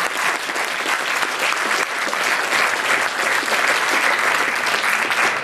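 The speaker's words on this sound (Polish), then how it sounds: "Brawa." Sustained audience applause at a business talk event in Poland, dense, even clapping filling the whole stretch without voices on top.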